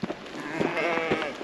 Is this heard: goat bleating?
yes